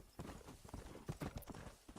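A horse's hooves clip-clop in a quick, steady rhythm while being ridden in Red Dead Redemption, close and clear.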